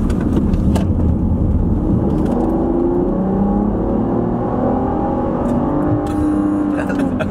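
A Volvo XC70 with a V6 engine of just over 300 hp revs continuously, its engine tones rising and falling in steady sweeps, loud and close, with people talking over much of it.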